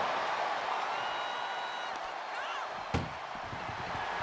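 A single loud broadband slam from ambulance doors being forced shut during a WWE Raw ambulance match between Stephanie Vaquer and Rhea Ripley, a sharp bang standing out over steady arena crowd noise.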